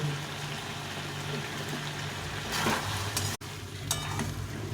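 Mustard-poppy okra curry simmers in a pan with a soft, steady bubbling sizzle, and brief stirring scrapes rise over it partway through.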